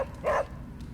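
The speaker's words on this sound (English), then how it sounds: "Demon dog." Charlie, the demon dog in the video game Marvel's Midnight Suns, gives a single short, close bark over a low background hum.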